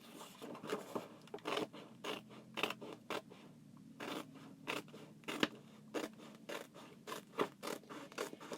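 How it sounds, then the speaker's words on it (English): Scissors snipping apart Chalk Couture transfer sheets along their pre-marked cut lines, a steady run of sharp close cuts with papery scratching and rustling between them, no talking. "the transfers have these cut lines, so you can cut your transfers apart very easily"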